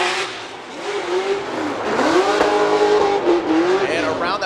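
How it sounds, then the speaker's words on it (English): A Nissan Silvia S15 competing at a Formula Drift event in Long Beach, its engine revving and wailing up and down under sustained tire squeal, loud and close, while a commentator talks over it. "NGK Sylvia S15 coming from Russia."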